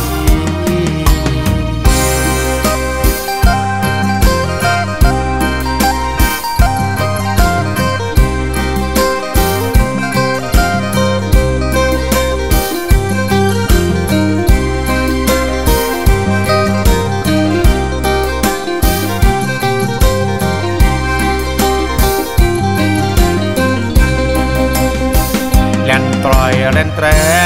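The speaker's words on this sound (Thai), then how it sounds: "นี่คือเสียงแคน" A khaen, the Lao/Isan bamboo mouth organ, plays sustained reedy chords within a dense, steady music track with a driving percussion beat, loud and continuous throughout.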